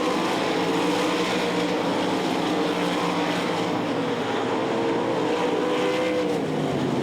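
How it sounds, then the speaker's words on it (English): Race cars lapping a speedway at the 1200lb nationals, a steady, loud droning engine roar that holds without a break and has no voices over it. "Now McCall runs through the middle of the speedway."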